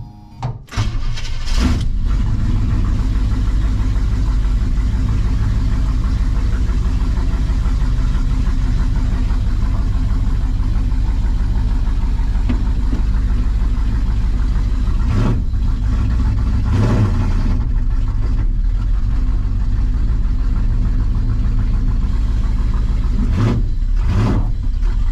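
A loud Big Block Chevy 454 V8 runs steadily inside a shop, a heavy rumbling drone that fills the space for the whole stretch, with a few clanks and knocks over it.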